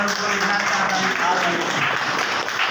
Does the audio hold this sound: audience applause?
yes